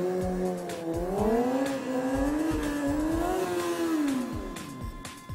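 Motorcycle engine revving hard as the clutch is popped for a wheelie, a loud, close rising and falling engine whine with pitch sweeping up and down continuously over several seconds.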